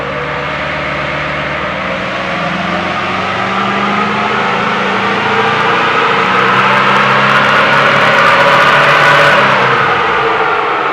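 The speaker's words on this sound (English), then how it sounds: "I'll get the dyno ready to go. Fourth gear. So we'll load this up." A car engine pulling hard in fourth gear on a dyno, a loud continuous rising drone that climbs steadily in pitch and volume throughout, close with no talk.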